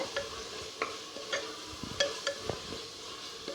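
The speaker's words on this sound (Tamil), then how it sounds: "இப்போ நல்லா கிளறி விட்டுருங்க." Roasted eggplant curry being stirred in a pan, soft sizzling with intermittent spoon scrapes and light clinks against the pan, close and fairly quiet, no talking.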